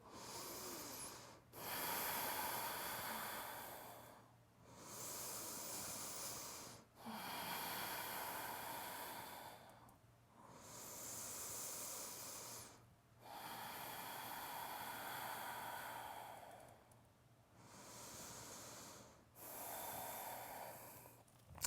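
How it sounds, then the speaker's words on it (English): Deep ujjayi breaths drawn through the nose during a vinyasa yoga flow, long hissing inhales and exhales in a slow, even rhythm of about eight cycles, close and quiet with short pauses between. "Take 5 deep inhales and exhales, deep ujjayi breathing through the nose."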